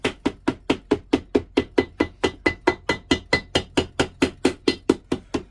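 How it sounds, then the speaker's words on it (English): A steady series of sharp hammer taps on the edge of thick gasket paper for a compressor head, about four per second, close and evenly paced, each a crisp knock with no talking. "Just tap around the edge of where you need to make your gasket."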